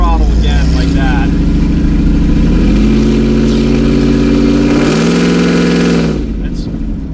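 Ford Lightning pickup truck with a new aftermarket exhaust under light throttle, a loud droning engine hum that climbs steadily in pitch, heard close from inside the cab, then eases off near the end.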